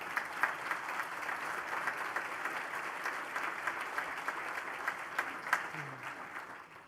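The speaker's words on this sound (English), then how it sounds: "I want to give you a round of applause for that as well." An audience at a regional planning assembly applauds steadily for several seconds, a dense, even clapping that holds its level before tapering off at the end.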